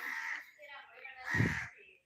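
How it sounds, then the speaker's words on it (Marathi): A crow caws harshly a couple of times nearby in a Konkan village in the morning, with other birds faintly in the background and a voice talking over them. "पक्ष्यांचा मस्त आवाज येतोय"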